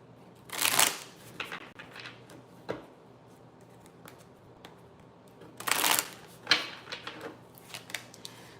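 Tarot cards are shuffled in two crisp bursts with scattered soft taps and flicks of cards being drawn between them, close and alone without talk.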